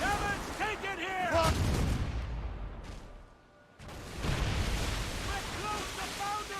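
Heavy cannon volleys from a sailing warship in Assassin's Creed Rogue, booming in broad bursts at the start and again after a short lull, with shouted orders and crew voices among the blasts.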